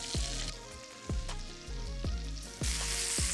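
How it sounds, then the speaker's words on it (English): Meatballs searing in a hot pan: a loud continuous sizzle broken by repeated sharp thuds and low knocks every half second or so, close by, with no voices. "it's gonna give a nice crust and seal in all the juices inside these meatballs, because you want a nice hot pan for this."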